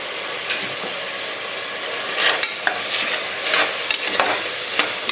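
Ginger garlic paste, turmeric and small onions fry in oil for a small-onion biryani with a steady sizzle. Sharp clinks and scrapes of a metal spoon against the vessel grow busier toward the end.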